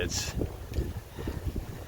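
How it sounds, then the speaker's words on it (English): Wind buffets the microphone in low rumbling gusts while a person speaks over it outdoors. "It's windy, it's very windy."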